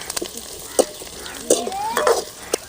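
Cumin seeds crackle and pop in hot oil, with scattered sharp bursts over a steady low sizzle and a faint scrape of stirring, fairly close.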